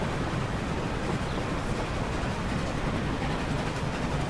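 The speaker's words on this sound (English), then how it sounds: "Here comes an Amtrak." An Amtrak passenger train passes in the Transport Fever simulation game, a steady, broad rumble of rolling wheels and rail noise holding at an even level for the whole stretch, with no talk over it.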